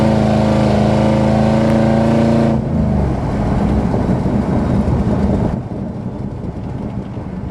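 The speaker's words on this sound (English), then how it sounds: "We can roll into the throttle, have a little bit heavier acceleration again" A 1993 Ford SVT Lightning pickup with a 351 V8 and automatic transmission pulls under heavier throttle, a steady close engine drone with a gear change partway through, and the tone drops after the shift.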